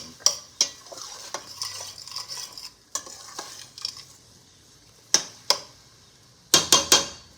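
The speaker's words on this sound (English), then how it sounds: "we are frying." Food sizzles steadily in a pan while utensils scrape and clink against it in sharp, irregular strokes, with a cluster of quick clatters near the end.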